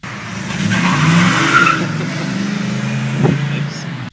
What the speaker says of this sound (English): Cars driving through the neighborhood or neighbors honking their horns or squealing tires.